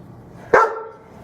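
A dog at an animal shelter lets out a single sharp, loud bark close by, its tone trailing off briefly against an otherwise quiet background.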